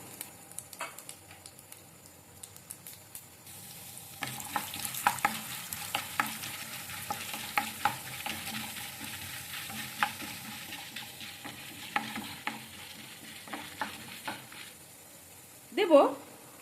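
Cumin, chana dal and peanuts frying in hot white oil in a kadai, a steady close sizzle and crackle with light stirring scrapes, rising after a few seconds and ending with a louder clatter.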